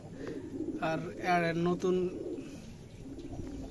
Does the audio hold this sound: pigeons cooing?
yes